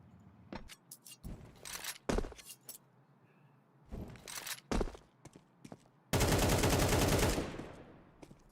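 Pistol fire in a Counter-Strike esports match, heard as a string of sharp, close gunshots in scattered bursts, ending in a loud sustained volley of rapid shots.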